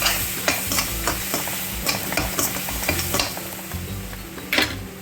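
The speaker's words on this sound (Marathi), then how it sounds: "सगळे मसाले परतून झाले की हे अद्रक लसणाचा पेस्ट टाकायचा आपल्याला" Ginger garlic paste and whole spices sizzle steadily in a pot for a pulao, with a constant close frying hiss and repeated scraping stirs of a spoon against the metal.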